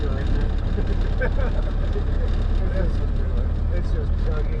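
Engine of a 1928 Ford Model A chugging steadily at idle, a low rumbling drone heard up close from inside the car, with people talking over it.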